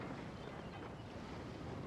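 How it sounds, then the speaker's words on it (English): Ocean waves wash against a harbour port in the video game Genshin Impact, a steady broadband surf and wind rush with no voices, even and continuous throughout. "The sound of the waves in this familiar port."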